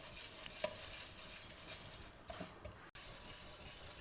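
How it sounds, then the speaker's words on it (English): Dry roasting in a pan over a low flame until crisp, with a soft steady sizzle and occasional scraping stirs, quiet and continuous with no talking. "Just dry roast it over a low flame till it becomes nice and crisp."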